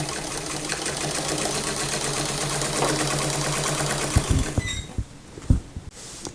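A sewing machine stitches a Simplicity 9134 tucked day dress, its motor running in a steady close whir that stops near the end, followed by a few scattered handling knocks.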